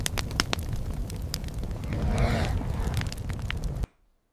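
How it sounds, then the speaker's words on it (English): A fire burning in a prehistoric setting, a dense steady crackle with sharp pops and a swelling roar in the middle, loud and close, then cutting off abruptly. "Look, fire!"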